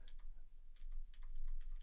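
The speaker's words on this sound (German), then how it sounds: "also muss ich dann auch noch mal eine Tastatureingabe machen, dass es zum Ende springt, also diese Endetaste drücken" A computer keyboard key, the End key, is pressed during setup of a Fritz!Box router, heard as a few soft close clicks of typing over a faint background hum.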